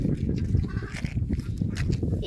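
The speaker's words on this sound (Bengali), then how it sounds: "ওই দেখো কত হাঁস ঘুরছে, দেখো কত হাঁস" A large group of ducks roaming about quack and honk in overlapping bursts, close and fairly loud, forming a busy, continuous chorus with no clear talk over it.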